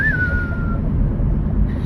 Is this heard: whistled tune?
yes